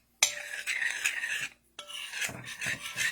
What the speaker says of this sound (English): Give it a little mix